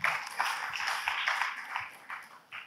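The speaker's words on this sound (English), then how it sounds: "So a set of applause for your own selves for being here on time." Conference audience applauding during a CEO's address, a steady wash of many hands clapping in a large room, fairly even in loudness with a couple of brief dips near the end.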